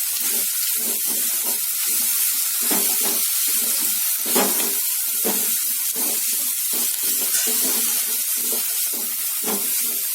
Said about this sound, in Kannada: ಈಗ ತೆಂಗಿನಕಾಯಿ, ಪುದೀನ, ಕೊತ್ತಂಬರಿ ಇತ್ತಲ್ಲ ಎಲ್ಲ ಹಾಕೊಂಡು ಜಸ್ಟ್ ಒಂದು ಅರ್ಧ ನಿಮಿಷದಷ್ಟು ಅಷ್ಟೇ ಬಾಡಿಸ್ತೀನಿ.